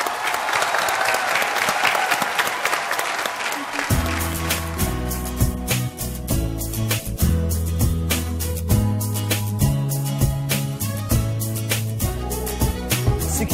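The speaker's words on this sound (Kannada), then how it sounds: "ಜೋರ್ ಚಪ್ಪಾಳೆ ಚಂದ್ರಕಲಾ ಮೇಡಮ್" Loud, sustained applause from a studio audience for Chandrakala, hand claps dense in the opening seconds, then continuing steadily beneath a strong musical beat for the rest of the clip.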